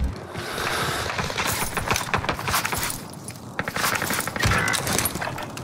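Gunfire in a Call of Duty Rebirth Island quads match: rapid bursts of shots crackle and clatter over a busy game backdrop, with sharp transients tumbling close together.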